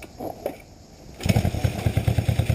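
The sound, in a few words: 1966 Honda CB77 motorcycle engine kick-started and idling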